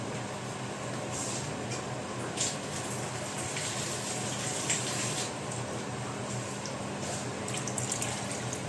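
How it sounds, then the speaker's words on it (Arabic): Water runs steadily into a cooking pot while making Egyptian koshari, a continuous close splashing and trickling stream with light bubbling, moderately loud and unbroken, with no talking. "هنعوز شويه ميه كمان"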